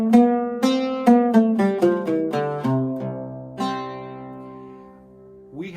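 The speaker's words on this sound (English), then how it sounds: "We call those quarter tones, and they sound like this." Plucked string instrument playing a slow descending run of single notes that step through quarter tones of a Middle Eastern scale, each note ringing and decaying, played alone with no talk.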